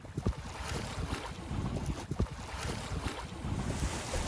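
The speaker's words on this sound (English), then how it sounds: "we're just motor sailing right now because that island blocks all the wind" A sailboat motor sailing on the open sea near Dominica, with rushing wind buffeting the microphone, water slapping and churning along the hull, and a low, continuous rumble close by.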